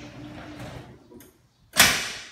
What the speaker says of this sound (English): So as the doors hit the floor here, both locks are going to engage.